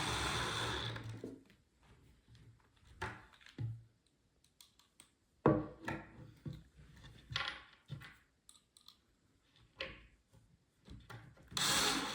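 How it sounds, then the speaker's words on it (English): A power drill driving screws into a wooden farmhouse shoe bench, with short intermittent whirring bursts and clicks separated by quiet pauses, close and without talk. "just finish installing these screws."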